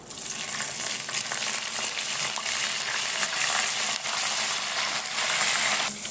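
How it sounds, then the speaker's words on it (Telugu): Chopped green chillies hit hot oil with already browned chana dal and urad dal while a lemon rice tempering is made, giving a loud, close, continuous sizzle and crackle with no voices. "కట్ చేసి పెట్టుకున్న పచ్చిమిర్చి అయితే వేస్తున్నానండి"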